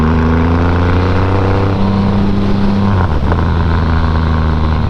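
A Triumph Rocket 2.5 litre muscle cruiser's engine drones loudly and steadily while being ridden, with a deep continuous rumble, a slight shift in pitch midway and wind noise over it.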